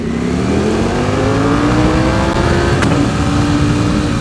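A motorcycle engine accelerates hard in second gear, its pitch climbing steadily in a loud, continuous pull with a brief sharp blip near the end and no talking.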